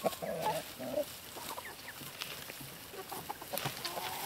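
Scattered soft clucks come from free-range chickens just released outdoors, low and intermittent over a quiet open-air background, with no voices.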